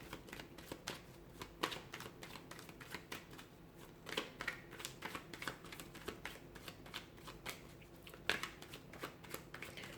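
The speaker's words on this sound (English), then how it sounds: "let's give the cards a shuffle" Tarot cards shuffled by hand in a steady run of crisp riffling slaps and flutters, with sharper snaps every second or so and no talking.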